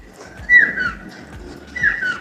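Two bright, high chirping calls from a bird, one near the start and another toward the end, over faint background rustle.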